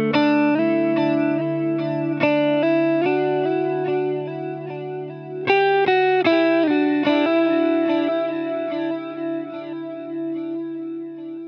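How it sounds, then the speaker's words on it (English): An electric guitar runs through the modulated digital delay of a TC Electronic Triple Delay pedal, picking a string of distorted notes and chords whose repeats shimmer and waver. It is loud and close, with a fresh strike midway and no talking. "They have a modulated version of that digital delay that sounds like this."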